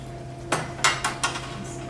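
A metal baking pan picked up and set down in a kitchen, a handful of bright clanks and rattles in quick succession, close and clear over a quiet background.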